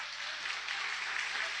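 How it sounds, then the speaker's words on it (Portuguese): Steady, dense applause from a church congregation, loud and continuous throughout with no breaks. "Aplauda bem forte ao Senhor."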